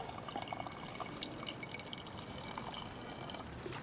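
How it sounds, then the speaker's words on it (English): Hydrogen peroxide, a 3% solution, being poured carefully, a soft thin trickle and faint dripping of liquid heard quietly and close, with no speech. "we're adding in very carefully the hydrogen peroxide"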